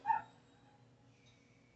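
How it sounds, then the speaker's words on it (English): A single short dog bark sounds at a distance, followed by a quiet room. "Excuse the dog barking in the background there."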